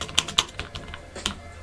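Sharp Bluetooth keyboard clicks tapped at an uneven pace into an iPad Mini 4, with a few louder keystrokes standing out, close by and with no voices.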